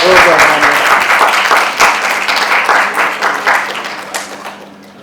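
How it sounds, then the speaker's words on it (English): Audience applause at a Mother's Day celebration for a mothers' milk bank, a dense, loud burst of many hands clapping that starts strong and gradually thins and fades over about five seconds. "A big round of applause."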